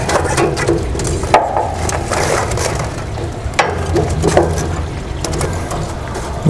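Charcoal coals are poked and stirred inside a smoker, giving close, dense crunching and scraping with scattered sharper knocks over a steady rumbling bed of noise.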